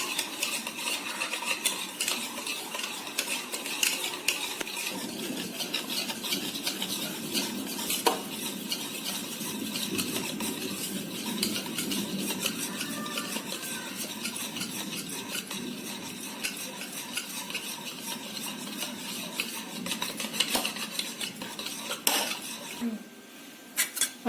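A spoon stirs chocolate cake batter with added milk powder in a bowl at home, producing continuous scraping and clinking against the bowl, close and steady, with a few sharper knocks near the end.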